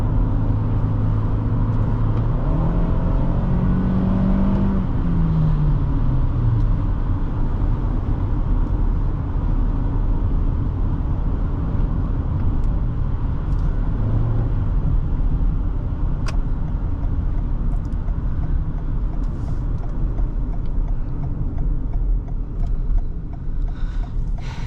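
A 2023 Toyota Sienna LE Hybrid with a CVT drives along, giving a steady, loud low road and engine rumble inside the cabin with no shifts, under a continuous hum.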